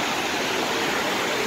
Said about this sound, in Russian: Хотим посмотреть на водопад на этот.